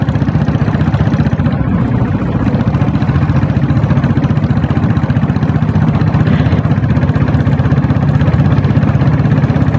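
A diesel Bullet motorcycle engine with self start runs steadily at close range, a continuous low thudding idle with a dense, even rumble and no pauses.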